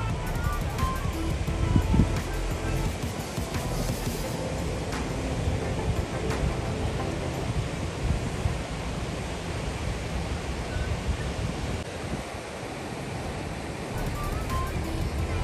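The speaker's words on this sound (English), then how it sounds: "It is a beach on the Malabar Coast in the state of Kerala in southwestern India." Steady broadband roar of ocean surf along Muzhappilangad Drive-in Beach on Kerala's Malabar Coast, continuous washing waves with some wind noise, no distinct breaks, moderately loud throughout.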